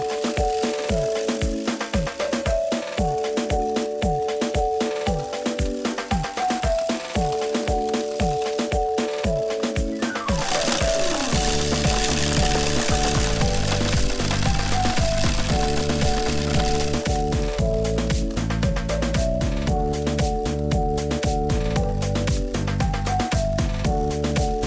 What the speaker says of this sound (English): This thing spreads fertilizer even when I don't want it to spread fertilizer. With that breakthrough agitator, it just continues to spread.